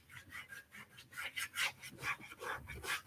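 A foot file rasps calluses off a man's foot during a pedicure, quick repeated scraping strokes in an uneven rhythm, close and fairly soft.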